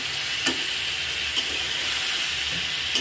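Fish pieces sizzle and fry steadily in a pan as part of a home-cooked fish and greens dish, a dense continuous crackle with a couple of brief clicks of a utensil.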